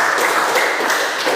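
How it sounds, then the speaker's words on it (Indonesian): A classroom group claps together in a dense, continuous patter of hand claps, steady and fairly loud across the whole span, with no voices over it. "Tepuk tangan, ya."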